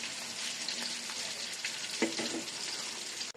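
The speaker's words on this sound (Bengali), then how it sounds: "বেগুনগুলি হালকা ভেজে নিলাম।" Eggplant slices fry in hot oil, a steady close sizzle and crackle that holds evenly throughout, with a brief clink near the middle and no talking.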